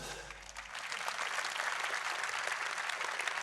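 A crowd at a business conference applauds steadily, a dense wash of clapping that holds at an even level for several seconds.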